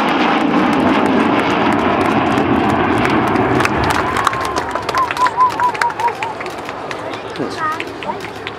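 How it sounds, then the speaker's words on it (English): Four Rolls-Royce Olympus engines of an Avro Vulcan bomber give a loud, sustained roar that fades into a distant, wavering howl as the aircraft passes at an RAF Cosford air show. "maybe we'll hear that famous Vulcan howl of the 4 Rolls-Royce Olympus engines"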